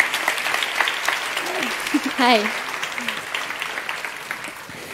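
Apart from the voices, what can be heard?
audience applauding a guest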